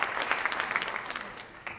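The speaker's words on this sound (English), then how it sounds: "round of applause." Seniors at the Morning Pointe Seniors Got Talent show in Lexington clap in a brief round of moderate, crisp applause that thins out toward the end.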